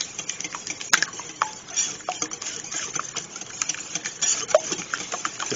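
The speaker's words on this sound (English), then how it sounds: "now let's whisk all of this up" Whisk scraping and tapping through morning glory muffin batter of apples, carrots, pineapple, coconut and walnuts in a bowl, with a steady close stirring patter and brief clicks against the bowl.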